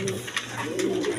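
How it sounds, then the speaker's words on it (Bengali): Racer pigeons, a pair kept for sale by a Bangladeshi pigeon seller, coo in low rolling murmurs, several overlapping calls close by with a steady background hum and no talking. "দর্শকবৃন্দ এইখানে এক পেয়ার রেসার কবুতর আছে"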